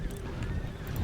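Cavalry horses in a period battle video game, a brief burst of hoof clatter and whinnying over a dense, rumbling battlefield background.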